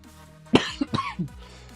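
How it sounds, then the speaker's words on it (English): Several short coughs come in a quick cluster from one person close to the mic, then it falls quiet. "Sorry for the coughing."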